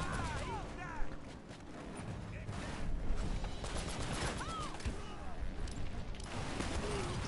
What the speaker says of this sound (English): Oh, I forgot you can also fire grenades